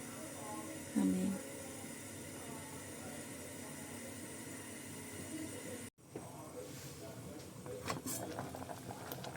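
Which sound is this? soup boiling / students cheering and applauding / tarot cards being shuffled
soup boiling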